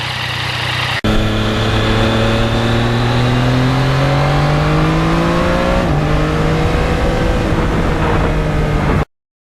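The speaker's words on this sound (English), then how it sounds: "You can't imagine how much fun this bike is with the quick shifter." A 2020 Yamaha MT-09 motorcycle with quick shifter pulls hard on a road, its engine note rising smoothly, then a crisp upshift drop before climbing again, loud and close until it cuts off.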